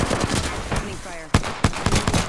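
Automatic gunfire rattles in a battle-royale-style video game, with rapid bursts of shots followed by two sharp, loud single cracks near the end, heavy and close.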